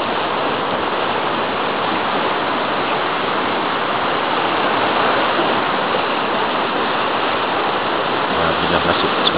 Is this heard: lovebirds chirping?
no